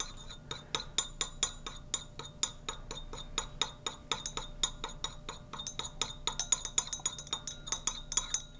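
A utensil clinks rapidly and steadily against the sides of a glass beaker as powder is stirred into water, a bright, close, continuous rattle of glassy taps with no talking.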